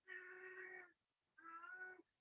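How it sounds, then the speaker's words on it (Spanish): A cat gives two clear, drawn-out meows, each lasting almost a second with a short pause between them, heard alone against a quiet background. "La gata."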